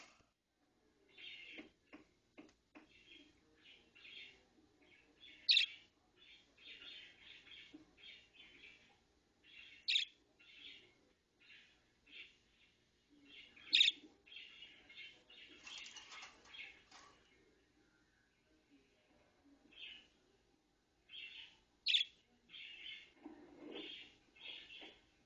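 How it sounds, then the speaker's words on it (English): Pet parakeet chirping indoors in repeated short, bright tweets and chatter, fairly quiet with a few sharper louder calls spread through and brief pauses between bursts. "Here's just a little update on my buddy Sebastian the parakeet"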